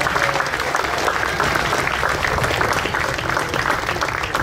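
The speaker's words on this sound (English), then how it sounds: "Let's give another round of applause to Pat." Steady applause from a gathered crowd at a Veterans Day ceremony, a continuous wash of clapping without a break.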